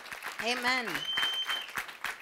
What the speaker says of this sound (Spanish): fuerte aplauso al Rey de Reyes